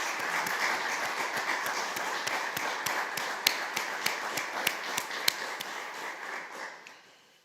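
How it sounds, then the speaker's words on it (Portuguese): Audience applause at a bar association anniversary ceremony honouring former presidents, a steady wash of many hands clapping from a sizable crowd, with a few sharper nearby claps standing out before it fades away at the end. "pedir uma salva de palmas para os bastonários que nos deram da Ordem dos Advogados"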